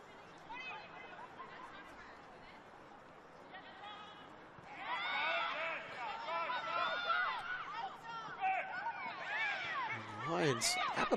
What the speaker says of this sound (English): Crowd starting to make a little bit more noise.